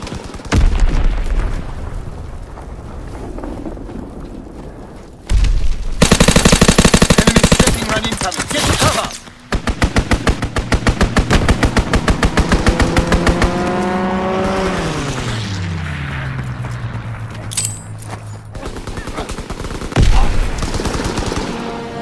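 Video game combat with rapid machine gun bursts and scattered gunshots over engine and vehicle noise, dense and loud throughout with a sweeping tonal whine in the middle.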